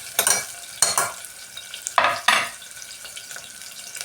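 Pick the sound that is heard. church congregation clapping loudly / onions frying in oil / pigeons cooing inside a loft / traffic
onions frying in oil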